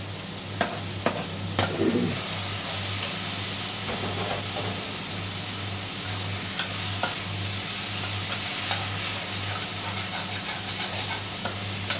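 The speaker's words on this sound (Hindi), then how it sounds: "ये देखिए मेरा मछली धीरे धीरे पक ही गया है" Fish simmers and sizzles in a pan of spicy gravy made with red chilli, ginger, garlic paste and green chillies, a steady close frying hiss with occasional small stirring clicks and no talking.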